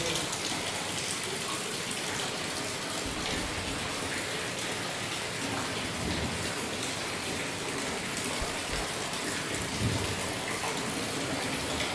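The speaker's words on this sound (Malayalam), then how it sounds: "അടിപൊളി മഴ." Heavy rain pours steadily into an open inner courtyard of a house, a dense, constant hiss of water with splashing on the surfaces, continuing unbroken throughout.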